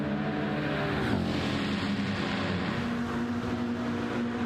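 A Mercedes-AMG GT race car in a racing video game accelerating hard out of the Le Mans chicane at Daytona, a loud continuous engine drone rising in pitch after a brief dip, heard alone.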